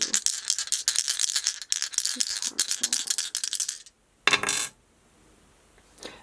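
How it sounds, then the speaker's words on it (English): Astrology dice are rolled and shaken, a dense close rattling clatter for several seconds, then a short burst of tumbling after a pause and a faint final click. "Let's just roll the Astro Dice just to see if there's any more messages."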